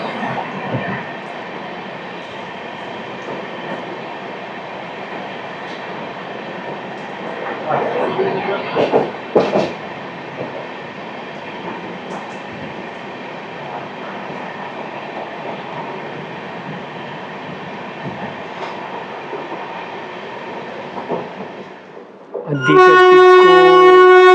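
The Godavari Superfast Express, Hyderabad to Visakhapatnam, rumbles through a station without stopping, rhythmic clacking of wheels on track, loud and continuous, before a horn blares near the end.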